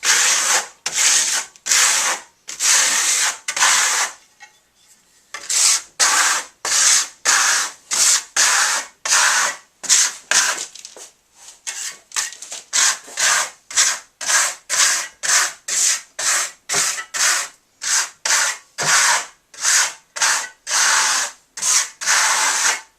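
Steel trowel dragging Venetian plaster over a wall with KS base coat, a steady run of close, rhythmic scraping strokes, each a brief gritty rasp with short gaps, carrying on alone for the whole stretch.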